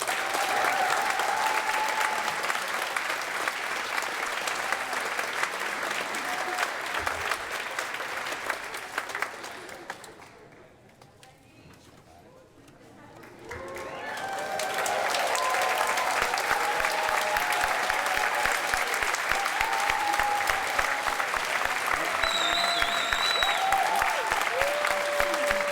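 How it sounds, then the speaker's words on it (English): A crowd at a graduation ceremony applauds a graduating class, loud sustained clapping that fades almost to silence midway, then swells back up and continues strongly to the end. "Can we do one more round of applause for them?"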